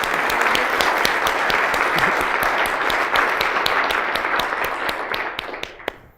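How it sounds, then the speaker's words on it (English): A room of local business owners claps steadily for an event organizer, a dense sustained round of applause with a few louder individual claps standing out before it tapers off at the end. "I also was hoping we could all give him a round of applause"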